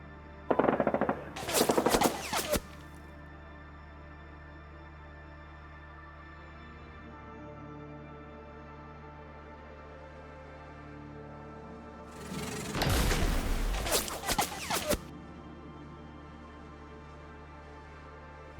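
Sound-effect machine-gun fire plays for a Konflikt '47 tabletop wargame battle, with two loud sustained bursts a few seconds long, separated by a long quiet gap.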